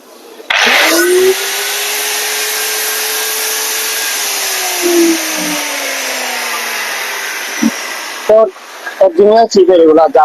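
A German seven-inch power tool salvaged from an old ship runs with a steady loud whine that starts abruptly, slowly drops in pitch and then cuts off, followed by a few short clattering handling sounds.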